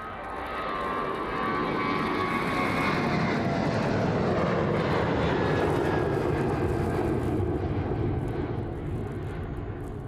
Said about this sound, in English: ready to catch the Ryanair as it departs off to Valencia this evening